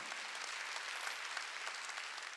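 A congregation at a Wednesday church worship service claps in a steady, faint wash of applause from many hands, heard from a distance and without talking over it.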